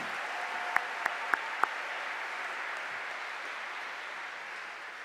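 A crowd at a high school graduation ceremony keeps applauding its top class of 2020 graduates, a steady, even wash of many hands clapping, with a few crisp individual claps popping out near the start.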